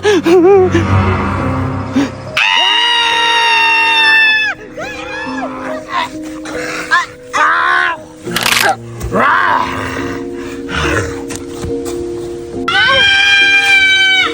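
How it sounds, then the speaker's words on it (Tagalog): Loud high-pitched screams ring out in repeated bursts, separated by short gaps and a roar-like cry, set in a horror comedy scene with no clear talk beneath. "Hala, bakit parang may sumisigaw?"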